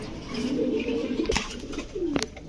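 Giribaz pigeons coo close by in soft, throaty bursts, with a couple of sharp rustles between the calls.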